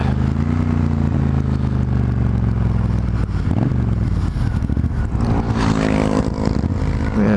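A 2020 Triumph Rocket 3 R motorcycle engine running close by, a loud low rumble that rises and falls as it revs, with some rattling clatter mixed in and no talk.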